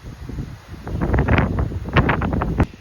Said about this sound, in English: This wind is really something, let me tell you.